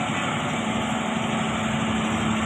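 A ten-wheeler truck engine runs steadily during cargo unloading at a port, a continuous near drone with a fixed tonal hum and no voices.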